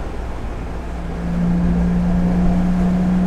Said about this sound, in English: Oh, someone overtaking a tractor.